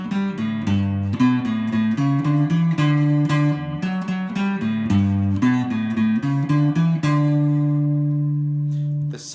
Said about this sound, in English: and when you play it up to speed, it'll sound like this